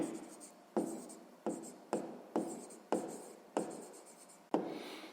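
Pen writing out a sixth-grade math solution on paper, close scratchy strokes in short repeated bursts, about eight of them, with a faint voice at moments.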